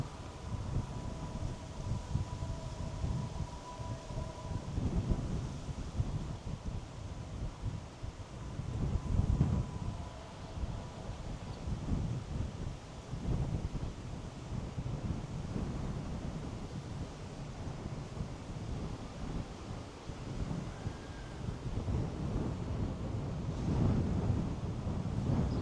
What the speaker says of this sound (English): Since it's windy, the water's probably going to be a little choppy today.